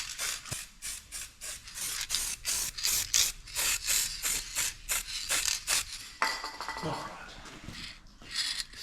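Repeated short bursts of aerosol spray hissing from a can, a rapid series of puffs followed by a longer continuous spray.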